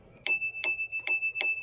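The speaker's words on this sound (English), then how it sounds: "I hooked up the bell there." A bell on a Windone K20 electric retro cruiser bike rings four times in an even rhythm, each ding clear, close and bright against near silence.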